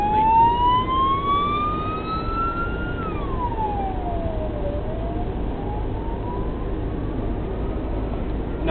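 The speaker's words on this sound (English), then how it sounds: "there was an ambulance coming past" An ambulance siren passes along a street in Spain, its wailing tone sweeping up and down steadily over a constant rumble of traffic, loud and close, then falling in pitch as it moves away.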